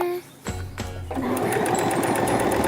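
After a couple of soft thumps, a sewing machine stitches lace fabric in a rapid, close, steady mechanical whir, with a faint voice in the background.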